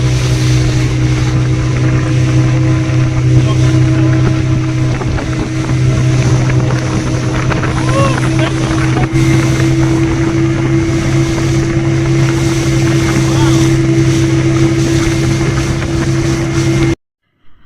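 Steady, loud motorboat engine drone on the Massanjore dam reservoir, a constant low hum with wind buffeting the microphone throughout, cutting off abruptly near the end.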